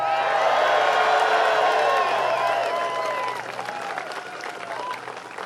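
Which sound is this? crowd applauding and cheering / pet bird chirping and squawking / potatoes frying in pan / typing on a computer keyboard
crowd applauding and cheering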